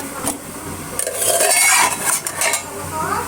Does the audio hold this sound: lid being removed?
yes